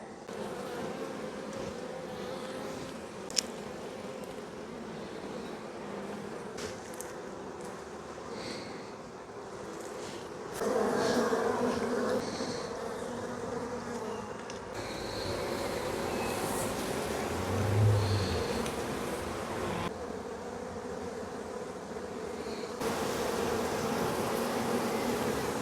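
Honey bees drone and buzz steadily around an open hive frame of brood and pollen, a close, continuous hum with swells as insects pass near, no talking.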